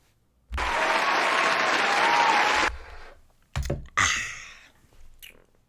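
A short burst of applause, dense clapping that holds steady for about two seconds and then stops abruptly, followed by a few scattered clicks and rustling handling noises.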